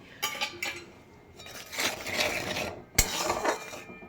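A spoon scrapes and clinks against a pan while curd is stirred into a curry on low heat, giving irregular metallic knocks and scraping swishes with one sharp clank near the end and no talking.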